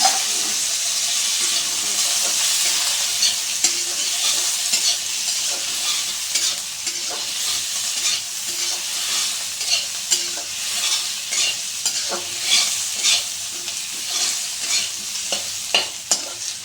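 Continuous sizzling of partly boiled potatoes and onions frying in a pan, with frequent scraping and stirring clatters from a spatula throughout.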